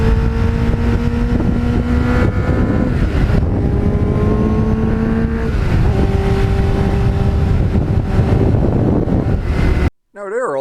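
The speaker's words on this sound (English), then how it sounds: "I love the sound of the MUZZY muffler." Restored 1989 Kawasaki GPX750R Ninja with a MUZZY muffler, engine droning loudly with tonal exhaust notes rising and shifting through gear changes, continuous and close, cut off abruptly at the end.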